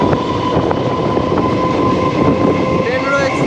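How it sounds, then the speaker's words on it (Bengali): A passenger train pulls into a station at Palashi, a loud steady rumble of wheels and carriages with a faint tonal whine near the end, heard from on board. "ট্রেন রয়েছে, ট্রেন আসছে।"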